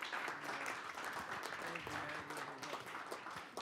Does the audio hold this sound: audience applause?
yes